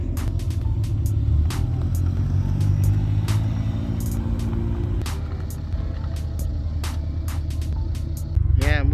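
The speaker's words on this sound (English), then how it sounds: "Pulling out the cars." A continuous low engine rumble from cars, an FK8 and an STI, idling and pulling out near a U-Haul on moving day, with occasional clicks and knocks and a voice briefly at the end.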